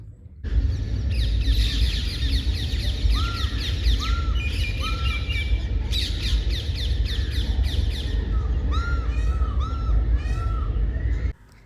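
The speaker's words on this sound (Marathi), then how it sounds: "दररोज सकाळी उठल्या उठल्या मला इतके सुंदर पक्ष्यांचे असे आवाज ऐकायला मिळतात" Birds call in the morning near a home in the city, with a dense, steady chorus of squawks, caws and repeated sharp chirps that stays loud and close for the whole stretch, without any talk.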